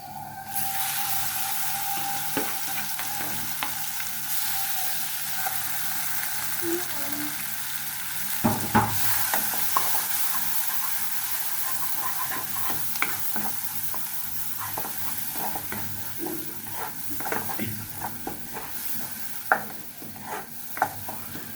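Red lentils frying with browned onions in a pan, a continuous low sizzle broken by repeated scrapes and clinks of a spoon stirring, with a few louder knocks.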